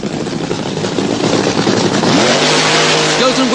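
A vintage drag racing car at Santa Pod in the UK does a burnout, its engine roaring loud and close, rising in pitch toward the end while a commentator talks over it.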